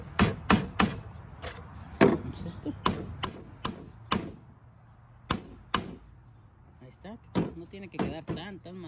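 A nail is hammered into wood while a rat trap is being built: a series of sharp, close, irregular knocks with short gaps between them, and a person talks quietly between the blows.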